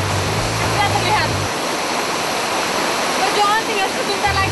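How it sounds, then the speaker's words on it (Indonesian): Leader waterfall in East Java, Indonesia, a steady broadband roar of falling water heard from a distance, continuous and fairly loud, with a brief low engine-like hum at the start and end. "Air terjun Leader yang dari tadi sudah saya dampak-dampakan, sudah terlihat."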